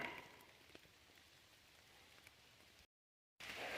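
Rain falls in a woodland during mushroom foraging, a soft, faint, steady patter of drops with a few louder taps, broken by a brief moment of total silence before the patter returns.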